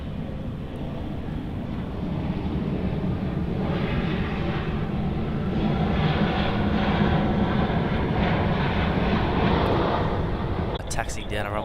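A Qantas Boeing 737 airliner arrives on runway 34 right at Sydney Airport and taxis, a steady distant jet engine roar with wind noise, and a voice talks over it.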